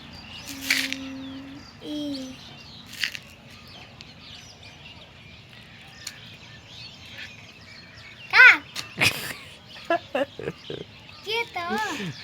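A few harsh crow caws ring out close by in quick succession near the end, after a stretch with voices and other faint calls, in Chitwan, Nepal.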